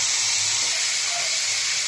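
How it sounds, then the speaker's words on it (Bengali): Cashew and poppy seed paste fries in a nonstick pan with splashes of water for a vegetarian fish-style kalia gravy, giving a steady, close, loud hiss that holds evenly throughout without pause. "এবার আমি এতে একটু জল দিয়ে দিয়ে ভাজা ভাজা করছি"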